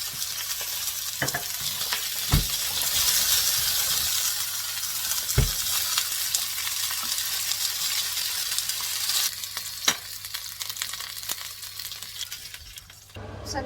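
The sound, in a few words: chorizo frying in a pan with crispy-skinned salmon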